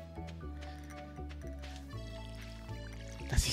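Watering crops with a watering can in the video game Stardew Valley, soft repeated liquid pours and drips over a gentle game music bed, ending in a brief louder splash.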